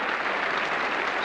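Chelsea home crowd at a 1981 match against Grimsby Town applauding a player's tricky skills, a steady broad wash of clapping and cheering from a large stadium audience with no voices standing out.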